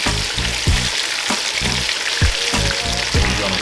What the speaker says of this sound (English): go ahead and drop your okra down in the grease